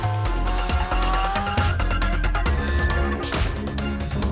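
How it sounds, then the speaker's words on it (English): A Subaru BRZ engine held at full throttle on the Isle of Man TT road course, loud and close from inside, a continuous strained roar with rising and shifting pitch and road noise throughout. "It's just full throttle all the way."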